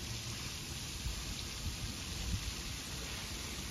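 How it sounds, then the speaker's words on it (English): Light rain sprinkling outdoors on a muggy day near a pond with ducks, a steady soft hiss of drops with faint patters on surfaces, continuous and even throughout. "And it's raining,"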